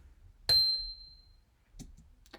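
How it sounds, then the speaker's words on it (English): A single high, pingy synth note from an ambient music track strikes once and rings with a thin, bright tone that decays over about a second, followed by faint soft clicks. "I went ahead and just made this track with one note on it"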